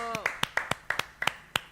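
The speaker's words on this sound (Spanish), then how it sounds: "Te aplaudes sola." A woman on a live broadcast show claps her own hands in about nine sharp, close, slightly uneven claps, with a brief vocal sound at the start.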